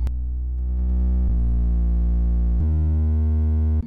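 An Afrobeat mix with saturation pushed to 100% until it becomes distortion, a loud, sustained, bass-heavy buzzing tone rich in harmonics that shifts pitch twice and then cuts off abruptly.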